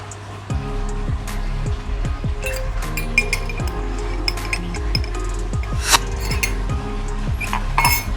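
Medicine-soaked koi fish feed is stirred in a container, giving a steady run of close clinks and scraping taps over a constant low hum.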